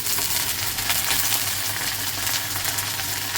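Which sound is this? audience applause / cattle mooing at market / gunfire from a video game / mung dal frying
mung dal frying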